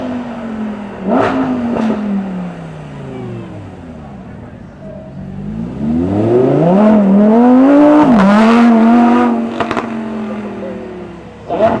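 A Lamborghini Huracán STO supercar engine revs repeatedly at a supercar show, with rising and falling pitch sweeps and a loud climb near the end, while people talk nearby.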